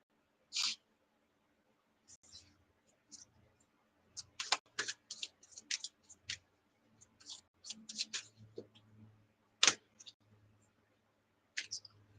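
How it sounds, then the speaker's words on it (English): A deck of tarot cards being shuffled by hand during a live astrology reading: soft, close riffles and snaps in irregular bursts separated by brief pauses, quiet overall with no talk. "2 cards flipped over while I was shuffling."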